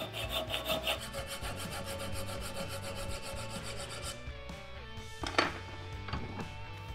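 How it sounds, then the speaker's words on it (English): A file scrapes a weld off a headtube holding fixture on a bicycle framebuilding bench, with rapid even strokes for about four seconds and then a few slower, separate rasps, close by and alone. "I'll file off the weld"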